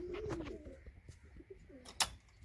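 Domestic pigeons released from a rooftop loft on a sunny day, with soft cooing, scattered chirps and a sharp burst of flapping wings near the end.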